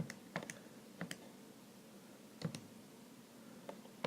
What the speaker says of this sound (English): You type it all into your calculator and just see what it gets you.